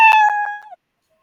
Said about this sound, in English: start sound meow